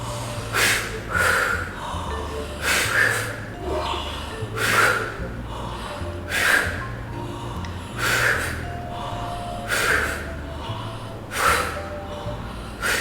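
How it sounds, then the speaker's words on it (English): Breathing exercise of deep inhales each followed by a strong, forceful exhale, repeating roughly every one and a half to two seconds in a steady rhythm, close and clear with no talking. "we do inhale and strong exhale"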